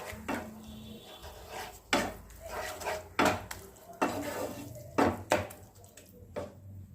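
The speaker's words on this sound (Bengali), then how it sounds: "দিয়ে দিচ্ছি অল্প করে হলুদ এই আদা এটাকে মিশিয়ে দিচ্ছি ভালো করে" Mashed eggplant bharta with turmeric and ginger being stirred in a pan, with a spoon clattering and scraping against the metal in several loud bursts over a quieter, steady background, up close and without voices.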